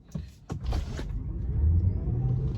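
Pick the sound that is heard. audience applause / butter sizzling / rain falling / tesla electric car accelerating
tesla electric car accelerating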